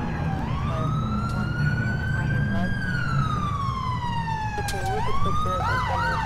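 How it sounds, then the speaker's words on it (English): Emergency sirens from a fire truck and ambulance in the GTA IV video game wail in long rising and falling sweeps over a steady engine rumble, loud and continuous throughout. "I got fire and ambulance here now."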